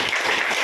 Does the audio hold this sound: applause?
yes